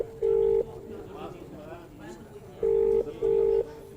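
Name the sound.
telephone ringing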